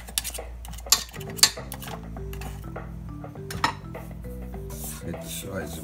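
Lemon pound cake batter is scraped off a stand mixer paddle into the bowl. Sharp metallic clinks and taps repeat up close, with soft scraping over a faint tonal background hum.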